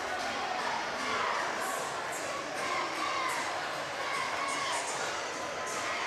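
Home crowd at a high school district semifinal basketball game, Fairland vs South Point, roaring in a steady, sustained wash of cheering and shouting heard from within the gym, with commentators talking over it.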